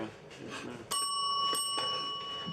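A single bright bell is struck, ringing out clearly and sustaining with a long metallic decay, with muffled talk and soft movement in the room around it.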